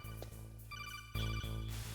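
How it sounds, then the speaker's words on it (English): Phone call ringing in the PS1 video game Metal Gear Solid: a repeating electronic ringtone of pulsing tones plays over steady game background hum, loud and close, growing stronger near the end. "There are so many phone calls at the beginning of this game."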